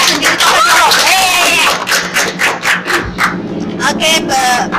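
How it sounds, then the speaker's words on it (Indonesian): Audience at a youth cultural jamboree podcast in West Sulawesi claps and cheers loudly, a dense sustained burst of applause with shouting voices that thins into scattered claps and calls. "aplaus dong"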